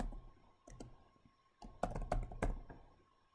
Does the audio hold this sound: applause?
no